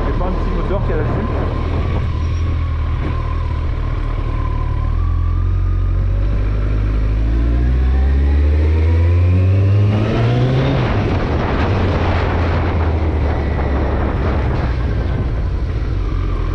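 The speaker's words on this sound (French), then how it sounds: "On a un bruit sourd, un bruit, ouais, tu sais que c'est pas un petit moteur qui est là-dessus." A motorcycle engine rumbles deep and close, its low growl climbing in pitch as it revs, then dropping back to a throaty idle.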